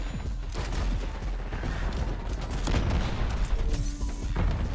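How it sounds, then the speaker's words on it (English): A C4 charge detonates amid a dense Black Ops 6 firefight, with booms buried under continuous rapid gunfire, clattering mechanisms and chaotic battle noise throughout. "Detonating C4."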